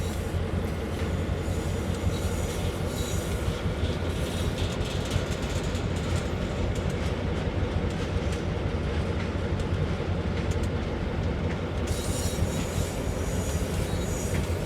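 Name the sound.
Amtrak train running in Train Sim World video game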